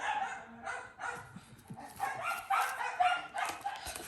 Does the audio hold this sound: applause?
no